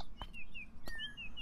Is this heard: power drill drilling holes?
no